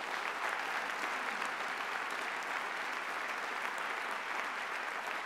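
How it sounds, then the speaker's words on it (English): A luncheon audience gives a sustained round of applause for students, dense and steady clapping filling the room at even strength throughout. "Give all the students in the room a round of applause."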